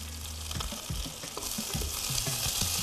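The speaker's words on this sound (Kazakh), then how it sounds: "Біз міне қатты қызған майға біз қазір жаңа кәдіні қуырып жатырмыз." Young courgette frying in very hot oil for a warm vegetable salad, a steady crackling sizzle punctuated by utensil knocks and stirring scrapes, close and without talk.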